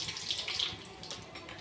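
Mustard seeds crackle and spit in hot oil for tempering, a soft, brief burst of fizzing pops.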